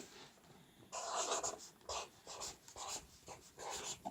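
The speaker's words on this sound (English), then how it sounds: "So I'm just going to write on it." A pen scratches across a cardboard box in short close strokes separated by brief pauses, quiet and with no talking.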